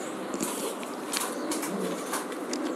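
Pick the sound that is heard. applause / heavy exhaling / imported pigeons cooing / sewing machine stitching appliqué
imported pigeons cooing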